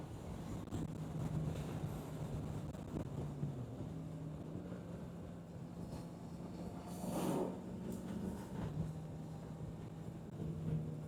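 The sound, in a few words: strong wind blowing while riding a Kawasaki Z900 motorcycle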